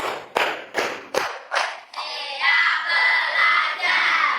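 A classroom group claps in a few sharp, rhythmic bursts of patterned clapping, followed by children shouting a chant together, loud and close.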